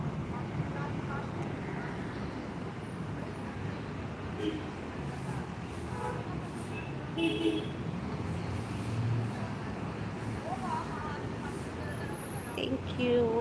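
Steady road traffic rumble with a broad wash of passing vehicles, continuous and moderately loud throughout, with a few brief louder swells and faint background voices.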